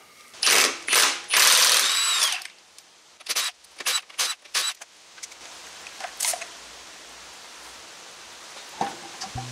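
Lug nuts run onto the wheels of a Jeep Wrangler JK with an impact or ratcheting tool, several close, loud buzzing bursts at the start followed by a run of short clicking spurts and quieter handling noise.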